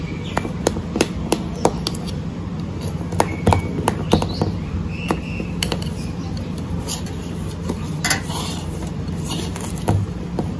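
Repeated sharp knife chops on a cutting board, quick and uneven in rhythm, close by, with a low background hum.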